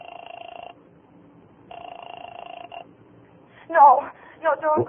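A telephone ringing during a call, two long buzzing rings separated by a pause, then a voice starts talking.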